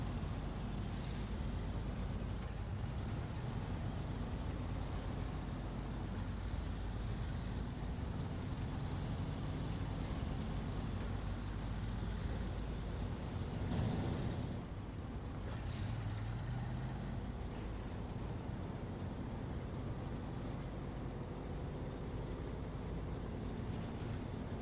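A White Western Star 4964 truck driving in the SnowRunner video game on hard mode, with a continuous low engine drone and a couple of brief hissing bursts like an air brake releasing.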